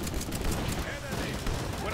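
Dense, rapid bursts of artillery and gunfire from the World War II strategy game War Alert WWII crackle continuously, with a player's voice talking over the barrage.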